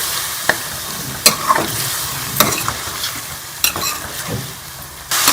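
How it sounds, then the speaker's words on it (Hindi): Chicken frying in a pan with garlic-ginger paste and tomato gives off a steady close sizzle. Sharp scrapes and clatters from stirring cut through it at irregular intervals, and no one speaks. "इसको अच्छी तरह से चिकन के साथ हम भून लेंगे"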